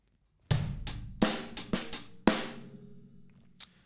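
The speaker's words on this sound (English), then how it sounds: "and then the and of 3 as a strong snare drum." A drum kit plays a short funk break, with close, crisp bass drum, a quiet ghost note and strong snare hits, cymbals ringing out between strokes, then a faint final tap.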